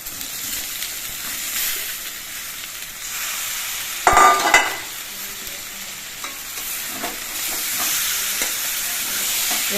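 Boiled elephant foot yam tossed with potatoes and spices in a hot pan, giving a continuous sizzle and hiss with a sharp burst of frying partway through as pieces are stirred, no talking.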